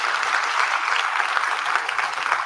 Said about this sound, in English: You also deserve a round of applause